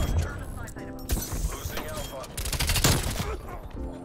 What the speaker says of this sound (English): God, I love this tracer fire